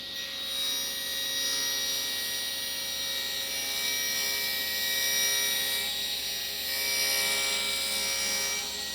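A narrow wooden piece being sawn along a parallel guide, a continuous hissing rasp that swells and eases in long strokes over a faint mains hum, with no voices.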